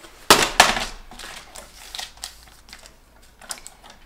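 Scissors trim a plastic shaker bag, starting with two sharp, crisp snips up close, then lighter rustling and small clicks of the plastic. No one speaks.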